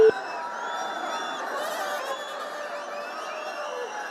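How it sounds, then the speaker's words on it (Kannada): Dense crowd gathered at the Annamma temple during the Bengaluru Karaga festival, a continuous murmur of many voices with occasional shouts and whoops at moderate distance. "ಅಣ್ಣಮ್ಮ ದೇವಸ್ಥಾನದ ಬಳಿ ಗಿಜಿಗಿಡಿದು ಸೇರುತ್ತಿರುವಂಥ ಜನ ನೋಡಿ"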